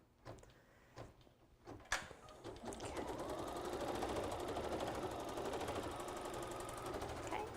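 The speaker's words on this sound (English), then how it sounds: "the machine is going to run the quilting detail" An embroidery machine starts with a few clicks and knocks, then settles into a steady, rapid mechanical stitching hum while running a quilting design for a crossbody bag, close and continuous without speech.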